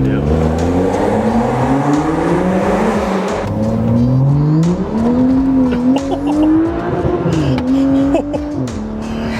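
BMW 335i with the N55 engine accelerating hard on a cold day, its rear tires breaking loose: loud close engine drone rising and falling through revs, tire squeal threaded in, occupants talking under the noise.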